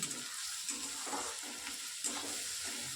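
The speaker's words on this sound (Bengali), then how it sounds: "পেঁয়াজটা আমার ভাজা হয়ে গেছে অনেকটা।" Salted chopped onion frying in a pan, giving a continuous close hiss of sizzling oil with soft pulses of stirring every second or so.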